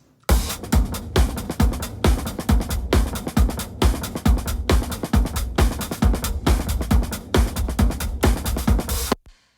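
Full drum kit with kick, snare and overhead microphones mixed together, playing a busy, driving groove with steady cymbal wash over punchy kick and snare hits for nearly ten seconds, close and loud, no talking.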